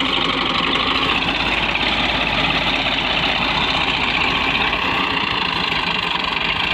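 A tractor engine runs steadily in a Pakistani village, a dense, continuous rumble with a knocking low end that holds at an even, loud level throughout without pause.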